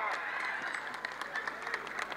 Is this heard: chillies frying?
no